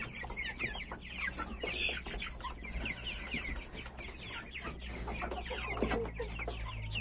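Young chickens of the white Bresse and grey Mechelen cuckoo breeds cluck and chirp in a busy flock, a dense overlapping chatter of short calls with a low steady hum beneath, no speech.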